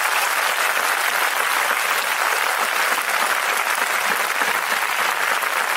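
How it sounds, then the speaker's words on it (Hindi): A church congregation claps together for Jesus during a Hindi Christian testimony service, dense and steady applause filling the whole stretch at full loudness with no pauses. "एक बार ऊपर ताली बजाएंगे यीशु जी के लिए।"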